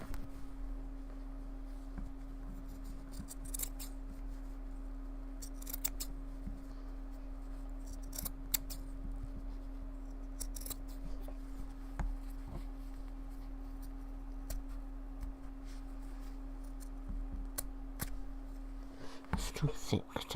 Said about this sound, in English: And finally, scissors.